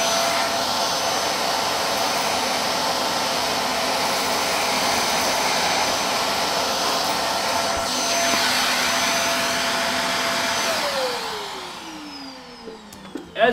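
A Bissell Zing 2154 canister vacuum cleaner runs loud and close, a steady high whine with a constant roar that holds for about eleven seconds, then spins down as the motor is switched off.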